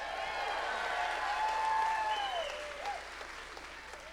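A commencement ceremony audience in a large hall gives sustained applause with some cheering, a dense wash of clapping that holds for about four seconds before easing slightly.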